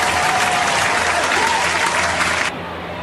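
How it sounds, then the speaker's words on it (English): Ballpark crowd rises in a loud, steady ovation for a baseball pitcher leaving the game, broad massed clapping and cheering that cuts off abruptly near the end. "he will get a big standing ovation from the crowd as he leaves"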